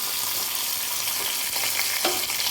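Curry leaves sizzle and spit in hot oil for a tempering to go into a Kerala jackfruit puzhukku, a steady close crackling hiss that runs throughout with a sharper burst near the end and no voices.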